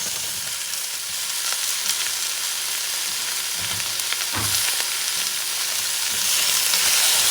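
Pumpkin, carrots and potatoes fry in a few drops of oil for an African-inspired bison oxtail stew, a steady close sizzle with a few soft stirring scrapes mid-way, no talking.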